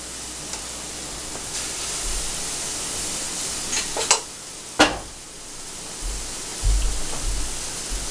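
Food frying in a cast iron skillet, a steady broadband sizzle held throughout with a few sharper spits and a couple of low bumps from handling the pan.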